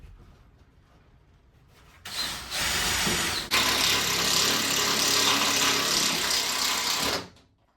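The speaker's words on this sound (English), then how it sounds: "next task is to secure that in again with a few of these self-drilling screws" A power drill whirs up close, driving a self-drilling screw into a new boat hatch frame in one burst, then briefly pausing and spinning again in a longer steady run before stopping.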